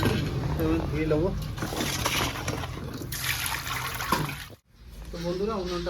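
Cut chicken pieces rinsed under running water, a continuous splashing and trickling close by with a brief break near the end, while someone talks over it.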